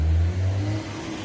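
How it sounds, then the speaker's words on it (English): A car passes close by outside a bar in Deryniea, Cyprus, its engine hum loud at first and then fading steadily over about a second, with no talk. "let the car go past"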